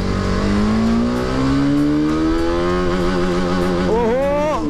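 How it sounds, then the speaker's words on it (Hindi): A TVS Apache RR310 motorcycle accelerates hard in first gear, its engine note climbing steadily in pitch up to a high rev before an abrupt shift, heard close with wind rush and a voice talking over it. "पहले गियर में देखते कितनी भागती है।"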